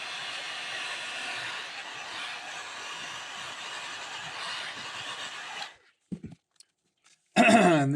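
A heat gun sets pearl paint on a crankbait, producing a continuous, fairly loud blowing whoosh that cuts off abruptly near the end, followed by a few faint clicks and a brief squealing burst.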